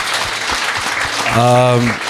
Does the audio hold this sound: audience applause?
yes